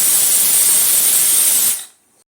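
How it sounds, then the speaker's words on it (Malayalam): A pressure cooker lets off steam in a loud, close, steady hiss that holds for almost two seconds, then cuts off abruptly into near silence. "പിന്നെ നമ്മൾ കുക്കറിൽ ഒരു 2 വിസിൽ വരെ വെയിറ്റ് ചെയ്യണം."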